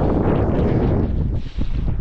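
Strong wind buffets the microphone on a forested hilltop, a loud, steady roar of rushing air lasting two seconds, with a brief dip near the end.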